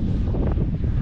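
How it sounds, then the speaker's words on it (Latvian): Strong wind buffets the microphone on a Lielupe riverbank where anglers fish, a steady low roaring rumble filling the whole stretch without letup. "Vējš sācies spēcīgi diezgan"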